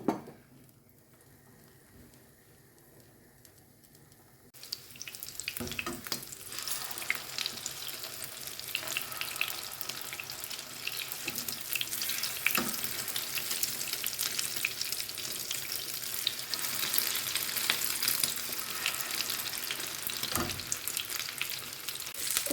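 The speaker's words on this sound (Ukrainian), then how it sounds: "Все, тепер помаленьку хай смажеться." Pieces of pork chop frying in a pan, a quiet start breaking into loud, steady sizzling with occasional stirring and utensil knocks, close up and without talk.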